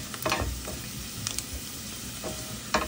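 Onion and garlic frying in hot oil give a continuous sizzle, broken by several sharp scraping stir strokes and spatula knocks close up, with no voices.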